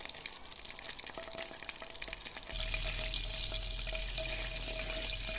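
Butter melts and sizzles in a pan as the base for a béchamel, a steady close frying hiss that grows louder partway through, with no talking.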